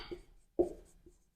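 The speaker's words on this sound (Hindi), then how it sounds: "दूसरी बात हम इसमें लिखेंगे" A pen or chalk scratches during a lecture: a few short, faint strokes, one sharper tap near the middle, then quiet.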